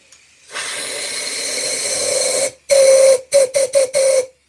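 A lidded wooden hollow form spinning on a lathe gives a loud, steady whistling hiss that cuts out, returns, then breaks into several short stuttering bursts.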